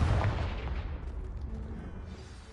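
Confringo blasting spell fired at a blocking pile in Hogwarts Legacy, a loud booming explosion up front that decays into a rumbling, crackling tail.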